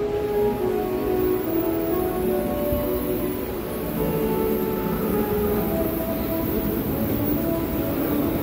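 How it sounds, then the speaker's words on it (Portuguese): A Rio de Janeiro metro train bound for Jardim Oceânico pulls into a station, producing a loud, continuous rumble and rushing roar with steady rail noise throughout. "tem que pegar esse metrô sentido Jardim Oceânico"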